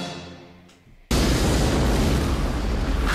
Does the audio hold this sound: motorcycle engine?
no